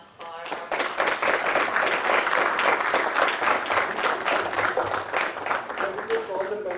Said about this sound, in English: can we have a big round of applause for our speakers?